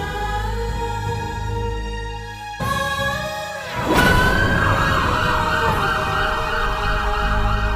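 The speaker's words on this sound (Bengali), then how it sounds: "ওই তো অ্যাম্বুলেন্সের আওয়াজ" An emergency siren wails loudly and close, its steady tone changing pitch pattern twice as it continues over a low rumbling engine.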